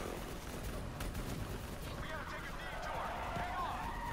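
Bursts of gunfire rattle in the Black Ops 3 campaign, with scattered shots and battle noise running continuously beneath loud, overlapping talk.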